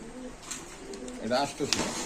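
Pigeons coo at a pigeon market where king pigeons are sold, a few low throaty coos rising near the end amid a busy background, with someone talking nearby.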